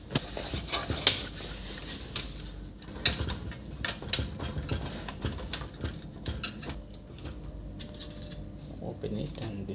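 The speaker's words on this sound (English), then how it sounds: "Okay, I little bit clean this printer." Someone cleans an HP LaserJet 1102w printer with a paper jam problem, making irregular close rubbing, scraping and light plastic clicks in uneven bursts, with occasional quiet speech between them.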